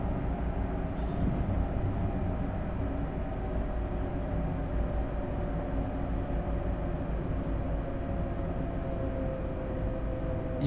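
In the Train Sim World 4 video game, a train approaches from the left as a low, steady rumble of rolling wheels and machinery, loud and unbroken throughout with no speech.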